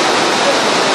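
Heavy rain pours down in a dense, loud, continuous hiss, a brief steady wash of falling water with no other sounds standing out.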